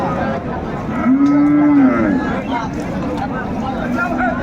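At a rural cattle market selling cows with calves, a single loud, drawn-out moo rises and falls close by, set against a busy background of voices and crowd chatter.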